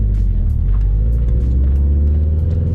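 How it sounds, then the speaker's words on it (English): A 2004 Subaru WRX STI fitted with a Mishimoto oil cooler drives along, its engine producing a loud, steady low rumble with road noise from inside the cabin. "let's go ahead and go for a drive"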